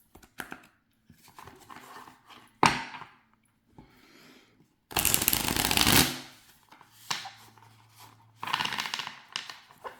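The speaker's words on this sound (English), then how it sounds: "now let's see how they shuffle" Tarot4All Marseille tarot deck in plastic-coated, stiff cards being shuffled by hand, with sharp riffles and a long rushing burst among quieter handling clicks.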